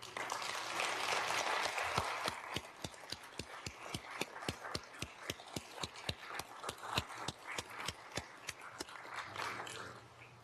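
Audience applauding student leaders at a university president's welcome; a broad burst of clapping settles into a steady, rhythmic unison clap, many hands beating evenly before tapering off.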